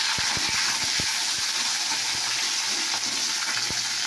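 Tomato hits a pan of frying spices with a steady, close, loud sizzle and hiss, broken by a few sharp knocks of a spoon against the pan; no one speaks.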